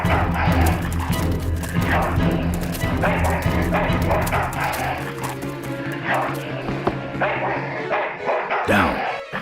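A dog in the Full Throttle Remastered video game barks and yips loudly in repeated bursts over game music and clatter, ending with a whimper.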